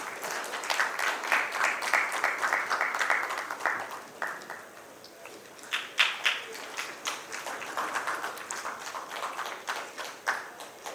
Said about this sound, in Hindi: तालियां हो जाए जोरदार।